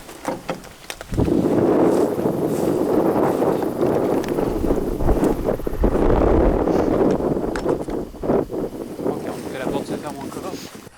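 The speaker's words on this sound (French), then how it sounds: "Donc là, le vent va souffler." Strong wind gusting outdoors at a ghost village in Saskatchewan, a loud continuous buffeting roar across the microphone with rises and dips, lasting nearly the whole clip after a brief quieter start.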